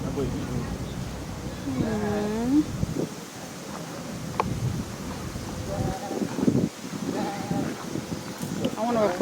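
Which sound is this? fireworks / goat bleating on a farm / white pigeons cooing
goat bleating on a farm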